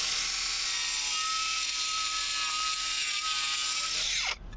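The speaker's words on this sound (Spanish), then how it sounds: "Cogemos la amoladora firmemente, así," Bosch GWX 18V-15 SC cordless angle grinder with a multimaterial disc cutting 16 mm corrugated steel: a loud, steady high-pitched whine held for several seconds, then winding down abruptly as the cut finishes.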